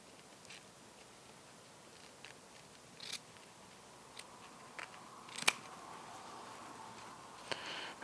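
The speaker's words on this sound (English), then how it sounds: "we're going to cut it right at that 23-inch line" Scissors snip through quilt binding fabric in a few quiet, scattered cuts, each a brief crisp click over a soft steady background hiss, with no voices.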